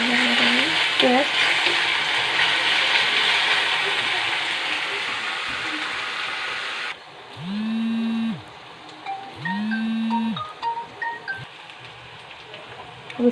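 Bottle gourd kofta frying in hot oil until brown: a steady, loud sizzling hiss for the first half, followed by quieter stretches broken by rising and falling electronic beeps.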